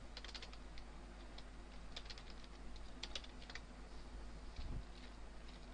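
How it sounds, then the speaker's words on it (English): Quick, irregular keystrokes on a computer keyboard as an email ID is typed into a registration form, with light clicky taps in short bursts, close and fairly quiet, no voices. "Type your email ID."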